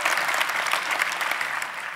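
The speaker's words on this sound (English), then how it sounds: "Give them a round of applause." Steady audience applause at a New Jersey Assembly swearing-in event, many hands clapping in a dense, even wash that holds at a constant level for the whole stretch, with no talk over it.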